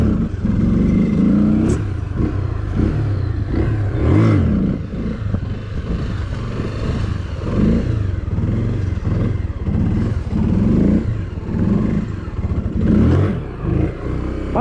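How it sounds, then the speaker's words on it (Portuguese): A Honda motorcycle revs hard while spinning a tight donut, its engine note rising and falling in rapid surges with some mechanical clatter, loud and close throughout. "O zerinho nessa aqui provavelmente é mais difícil pela posição do guidão"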